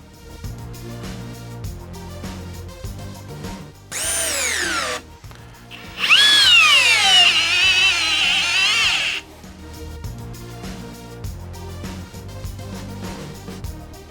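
A Festool CXS 12 compact drill drives a long 3-1/8-inch GRK screw into wood, the motor whining in two loud bursts, straining and bogging down during the second longer run, with quieter background between.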